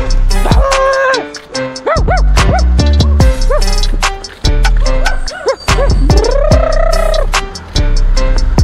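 A dog barks and yips in short repeated bursts, close by, over loud music with a heavy drum beat at a haldi celebration.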